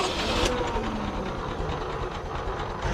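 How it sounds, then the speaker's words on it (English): A 1905 Mitchell car's engine chugs steadily at close range as it is put into first gear, with mechanical clatter and a brief shift at the start as the big cone clutch engages. "so now I'm going to put it in first gear"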